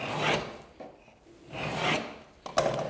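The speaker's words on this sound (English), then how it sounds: "give it three or four really deep scores at a slight angle with the knife." A knife, guided along a spirit level, cuts deep scores into a 12mm Hardie Backer cement board. It makes three rough, rasping strokes, close and fairly loud, with short pauses between them and no talking.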